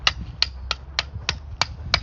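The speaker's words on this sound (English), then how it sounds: "rock hammer" A rock hammer strikes rock while building a crevice garden in a hypertufa trough, seven sharp, evenly spaced cracks about every third of a second, close and crisp over a low background rumble.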